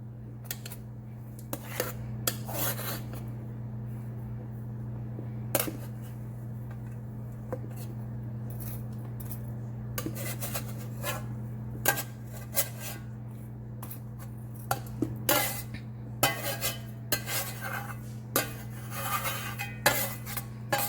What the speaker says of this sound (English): now that we have our cornbread in a large bowl, again, we're just going to kind of break it into pieces.